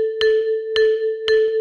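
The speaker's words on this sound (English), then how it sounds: "Eighth notes sounds like this." Eighth notes played back in Flat.io notation software as clean synthetic tones: a steady sustained pitch with three bright plucked attacks spaced about half a second apart, each followed by a softer echo note, no talking.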